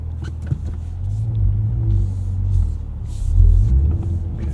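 A Cadillac CT5-V Blackwing driven gently on a snowy road with winter tires, its engine a loud, steady low rumble that swells and eases with light throttle, heard from inside the cabin.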